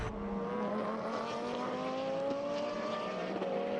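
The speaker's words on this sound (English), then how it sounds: "Great noise from the Ford GT" A Ford GT race car engine in a 2011 Blancpain Endurance Series race at Navarra, a loud, continuous high-revving roar with clear rising harmonics, heard close and alone throughout.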